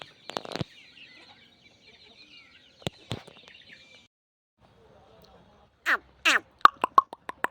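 An aseel chicken on a farm gives a few short clucks and squawks in a quick burst near the end. Earlier there are scattered sharp knocks and faint background sounds, and the calls are close and clear.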